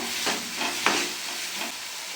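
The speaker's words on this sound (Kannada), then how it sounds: "ಇವಾಗ ಟೊಮೊಟೊ ಹಾಕ್ತಾ ಇದ್ದೀನಿ ಈ ಥರ ಫ್ರೈ ಮಾಡಿ ಟೊಮೊಟೊನೆಲ್ಲ" Chopped tomatoes frying in a pan for ridge gourd palya, a soft hiss with a few brief stirring scrapes and a sharper clink near the start, close and short, with no talk.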